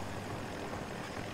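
Steady whirring rotor and engine roar of a helicopter in the video game Battlefield 2042, a continuous, fairly faint drone with no speech over it.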